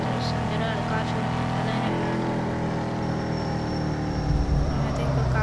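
A car is driven fast toward a car showroom, its engine giving a loud, steady drone throughout with road roar underneath. Voices can be heard inside the car over the engine.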